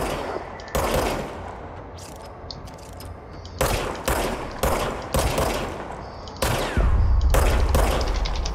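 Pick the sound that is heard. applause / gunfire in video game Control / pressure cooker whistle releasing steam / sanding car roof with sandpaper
gunfire in video game Control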